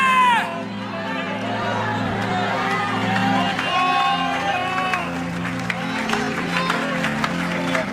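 A church congregation applauds loudly and continuously during a worship service, with cheering and shouts rising over the steady clapping.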